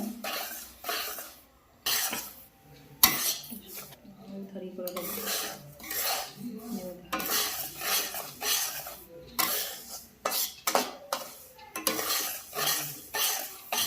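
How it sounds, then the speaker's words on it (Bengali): Semolina fried in ghee in a pan, stirred with a metal spoon that scrapes and clinks against the pan in repeated bursts, close and fairly quiet. "2 চামচের মতন ঘি দিয়েছি, দিয়ে হচ্ছে ভেজে নিচ্ছি সুজিটা, লাল লাল করে ভেজে নিচ্ছি"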